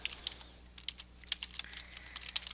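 Quick, close clicking of keys on a computer keyboard as an email address is typed, an irregular patter of light taps with brief pauses.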